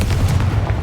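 A Confringo blasting spell explodes in Hogwarts Legacy, a loud thudding boom with rumbling low end and a couple of sharper bursts in quick succession, nearby and without speech.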